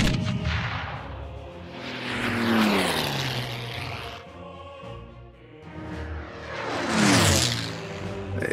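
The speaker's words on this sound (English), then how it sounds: "Both those airplanes flew away." Propeller warplanes from the WW2 strategy game Order of Battle drone overhead in two swelling passes, each engine roar rising loud and then sweeping down in pitch as the aircraft fly away, with no voices.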